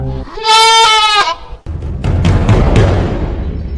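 A goat gives a loud, close, wavering bleat, followed by a rumbling, dark ambient swell from a horror story soundtrack.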